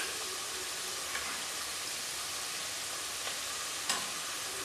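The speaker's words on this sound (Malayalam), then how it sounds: "അങ്ങനെ എല്ലാ സൈഡും നന്നായിട്ട് ഫ്രൈ ആയി വരുമ്പോൾ ഇത് എണ്ണയിൽ നിന്ന് കോരിയെടുക്കണം." Potato thread chicken deep frying in hot oil gives a steady, even sizzling hiss throughout, with a few faint clicks at scattered moments and no voices.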